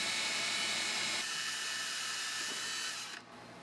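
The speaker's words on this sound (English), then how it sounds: "Drill a hole for a screw" A power drill bores a hole through a circular metal fishing weight for a model plane's nose ballast, a steady whining grind that runs loud and unbroken before easing off near the end.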